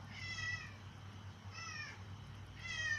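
A house cat meows indoors, three drawn-out cries spaced across the moment over a steady low hum, fairly loud and close.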